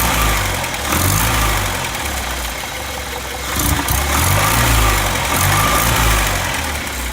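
Carbureted engine of a Scout 80 running steadily at idle with a dead spot, a close, rough rumble that wavers and dips unevenly, with no talking.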